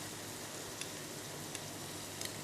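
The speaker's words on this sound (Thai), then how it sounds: "จากนั้นผัดให้เข้ากันให้แค่น้ำตาลละลายนะคะ" Dark soy sauce and sugar stir-fried in a pan for radish cake, giving a steady, faint, continuous sizzle with a few light scrapes of the utensil, no voices.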